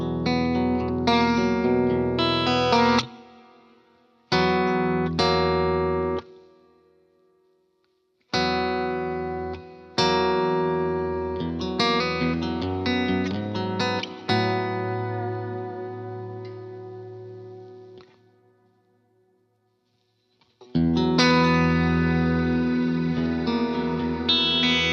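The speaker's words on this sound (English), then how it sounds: "the other 2 are kind of full on really wet and modulated. And here's what some of those sound like." Guitar chords through very wet, modulated reverb on a Line 6 Helix: several loud strummed chords, each blooming into long shimmering tails that fade into near silence before the next, with no speech.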